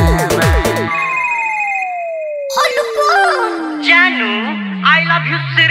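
A telephone ringtone in a Bhojpuri song sounds alone first as a rapid repeating electronic ring. A long sliding musical tone follows, then a singing voice comes in over the music.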